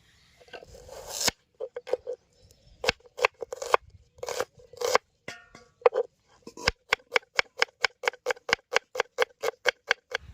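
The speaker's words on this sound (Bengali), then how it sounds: "এবার আদা কেটে নেবো এবার পেঁয়াজ কেটে নেব" A knife cuts ginger and then onion on a board in a village kitchen, with irregular cuts at first, then a fast, even run of crisp chopping strokes, close and clear.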